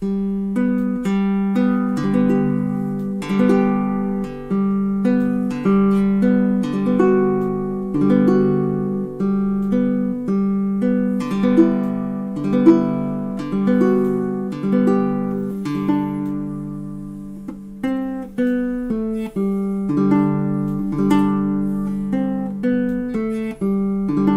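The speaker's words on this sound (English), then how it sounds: "On baritone, it sounds like this." A baritone ukulele plucks a gentle melody, individual notes ringing clearly and overlapping in a steady, unhurried rhythm.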